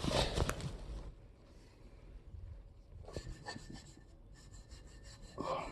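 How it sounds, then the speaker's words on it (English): A brass wire brush scrubs rust off metal in faint, uneven bursts of scratchy rasping strokes, with pauses between passes and no talking. "I will see if I can remove any rust with a wire brush, with a brass brush."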